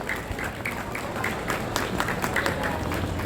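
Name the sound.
audience applause for the charity bazaar organizers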